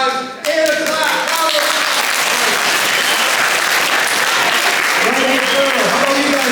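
Audience in a high school presentation breaking into loud, sustained clapping that lasts about six seconds, with voices talking and calling out over the applause at the start and end.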